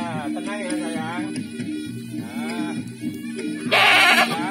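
Goat bleating repeatedly while being washed with bar soap, wavering nasal cries up close, with a person speaking softly in between and a burst of splashing water near the end.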